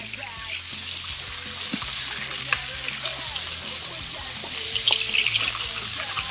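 Crushed garlic hits hot oil in a pan and gives off a loud, steady sizzle and crackle throughout, with occasional stirring clinks and faint talk underneath.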